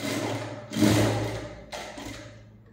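A sewing machine runs in two bursts, stitching through a thin fabric cord to lock it with a strong stitch, with a steady mechanical hum that rises and then tapers off, close and fairly loud with no talk.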